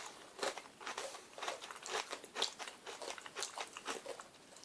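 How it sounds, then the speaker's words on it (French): A crunchy Japanese snack is bitten and chewed in a steady series of crisp, crackling crunches, close and fairly quiet, with no talk over it. "Ça croustille, hein."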